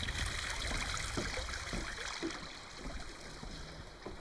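A river stream runs past a small bridge, its steady flowing trickle close and continuous, with a few faint knocks and splashes mixed in.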